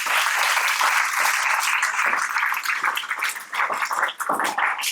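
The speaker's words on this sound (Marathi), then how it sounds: "तुमच्या स्वतःसाठी जोरदार टाळ्या" An audience claps vigorously and continuously, a dense, close burst of applause that stays loud for the whole stretch with slight dips toward the end.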